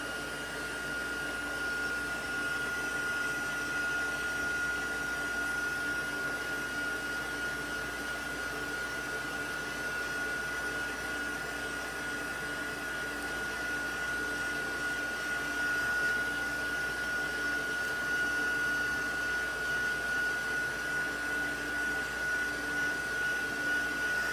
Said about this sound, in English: we're just going to let this dry a little bit with the heat tool